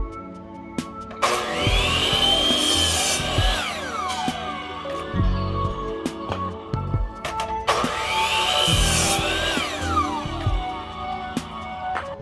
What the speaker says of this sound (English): So we're going to be cutting up these plies